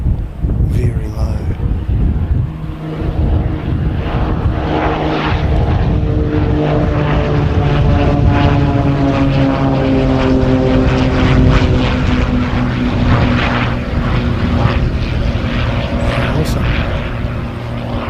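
A USAF C-130 makes a low touch-and-go pass, its propeller engines giving a loud, throbbing drone that stays heavy throughout, with a voice talking over it.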